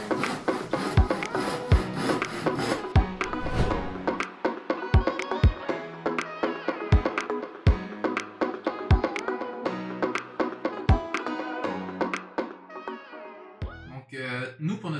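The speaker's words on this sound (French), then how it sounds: "Fait que là, on s'apprête à les découper à la scie," Hand saw cutting through wood panels for a minivan kitchen build, with steady rhythmic rasping strokes close up, pausing near the end before a final burst of handling noise.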